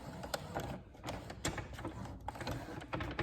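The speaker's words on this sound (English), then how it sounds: "I'm going to stitch forward slowly" A sewing machine stitches slowly forward along scrunchie elastic, giving irregular mechanical clicks and whirring bursts close by, with slight pauses between runs.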